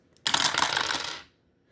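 Dice rolled for a savings challenge, a single short clattering rattle lasting about a second, close and fairly loud, then silence.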